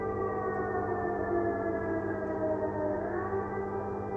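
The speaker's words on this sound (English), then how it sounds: "often awakened by the air raid sirens." Air raid sirens in Ukraine wail continuously in a layered, sustained tone, steady and fairly loud, with no voices.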